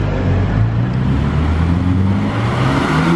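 Renault Mégane 4 RS on a road, heard as a steady, loud engine drone with a low, rising tone, close by and uninterrupted, with no talk.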